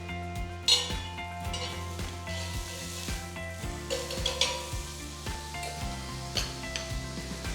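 A soft buttered pav bun toasts in a pan with butter and pav bhaji masala, giving a steady low sizzle broken by occasional light scrapes and clinks of a spatula against the pan, with no talking.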